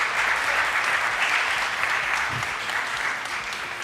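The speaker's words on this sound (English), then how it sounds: "Let's give our teachers and parents a round of applause." A Tobago Day annual debate audience applauds teachers and parents, a dense continuous wash of clapping from a crowd at moderate distance that holds steady for about four seconds.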